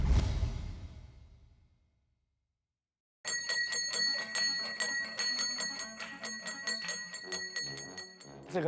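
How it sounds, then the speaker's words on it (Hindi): A bright bell rings repeatedly in quick metallic strikes after a fading tone and a short silence, holding a steady jangling rhythm until the end. "घंटी बजी बाहर"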